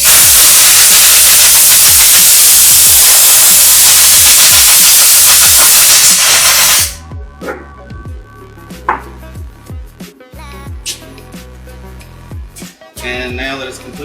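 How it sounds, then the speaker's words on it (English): Compressed air blasting a freshly rinsed metal muzzle device dry in a machining shop, a loud continuous hiss for several seconds that cuts off abruptly, leaving clanks and handling noises. "Now I'm gonna blow it so it's completely dry."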